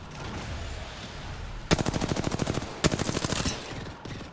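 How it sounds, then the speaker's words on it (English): Rapid automatic gunfire in Apex Legends, two sustained bursts of evenly spaced shots after a stretch of ambient game noise, loud and close with no talking. "Wow, I missed a lot of shots."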